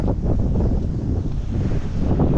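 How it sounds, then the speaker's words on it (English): Strong wind roars and buffets continuously across the microphone during an outdoor walk in a windstorm, loud and unbroken with no voices. "Windy today. Walking in a windstorm."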